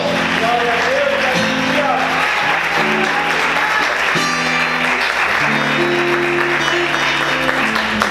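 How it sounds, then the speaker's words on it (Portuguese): A church congregation claps for the Lord during a Portuguese-language sermon, steady applause running throughout under sustained music tones, with voices mixed in. "Quantos podem aplaudir o Senhor?"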